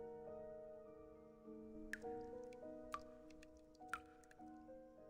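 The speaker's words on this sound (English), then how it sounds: "Sounds like dripping water." Dripping water echoes in the video game Reverse: 1999, set on a haunted highway route: three sparse, bright drips about a second apart, ringing out over sustained soft synth tones of the game's score.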